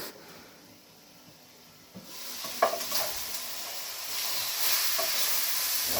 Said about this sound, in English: Let's give that another quick stir.